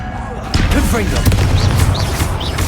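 A fiery Confringo spell blast from Hogwarts Legacy lands as a sudden loud burst, then a dense crackling, booming roar keeps up amid chirping game effects.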